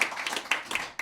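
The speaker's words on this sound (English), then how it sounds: "Give a round of applause to the Norwegians" Comedy club audience clapping for a group of Norwegians, a short, dense patter of hands at close range with sharp individual claps standing out.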